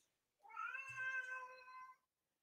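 A cat lets out a single drawn-out meow lasting over a second, clear and fairly close against a quiet room.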